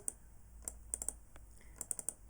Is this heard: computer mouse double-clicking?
yes